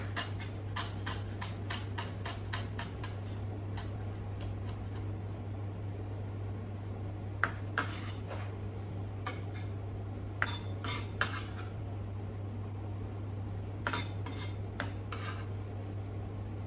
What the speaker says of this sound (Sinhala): ඉතින් මම සෙලරි කොළ ටිකක් හීනියට ලියලා දා ගන්නවා